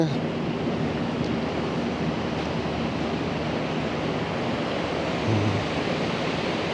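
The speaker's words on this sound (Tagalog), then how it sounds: "Ang laki ng mga alon." Big ocean waves surge in a loud, continuous roar against the shore at the Las Casas Filipinas de Acuzar beach resort in the Philippines, a steady wash of surf with no pauses.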